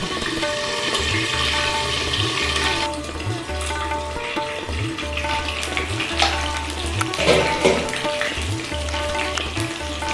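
A catla fish head fries in oil in a covered pan over low to medium flame, giving a continuous sizzle over a low rhythmic hum.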